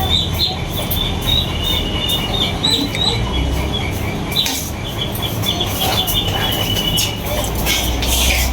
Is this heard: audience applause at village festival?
no